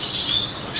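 Red siskin finches at a breeder's aviary give brief high chirps, one near the start and another near the end, soft and close with no talking.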